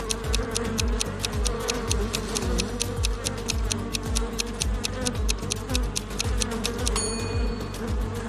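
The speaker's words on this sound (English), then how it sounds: "But bees seem to be angry." An angry swarm of bees drones in a dense, steady buzz, threaded with rapid repeating clicks and pulses that keep a fast, even rhythm throughout.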